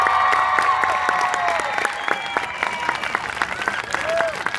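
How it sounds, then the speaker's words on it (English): Applause and cheering from the crowd at a 2015 Brown County High School homecoming after the homecoming queen announcement, dense clapping over a steady murmur with a public-address voice speaking over it. "how about one more round of applause for this fine group of young men and women"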